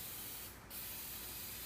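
An aerosol can of clear coat gives one steady, close hissing spray burst lasting over a second, with no talking.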